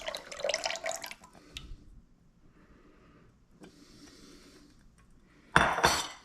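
Lye solution trickles and drips into coconut and olive oil in a container for soap making, with faint clinking, then a louder splashing pour near the end.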